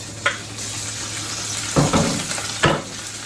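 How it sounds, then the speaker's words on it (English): Pork sizzles in a frying pan with rice oil, a steady hiss broken by a few sharp crackles and stirring scrapes near the pan. "Fry the pork."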